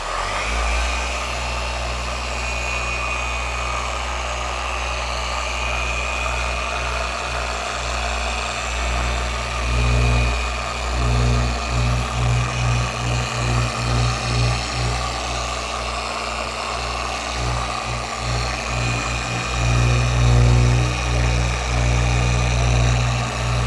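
Machine polisher working the paint of a Mazda MX-5: a steady mid-low motor drone with pulsing swells as the pad presses and moves across the panel, continuous and fairly close.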